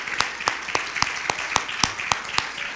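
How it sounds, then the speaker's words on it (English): Sparse, slow clapping from a few people at a public meeting of a police policy review task force, the individual claps landing sharply and steadily over a faint room hiss. "let's give them another round of applause for their work"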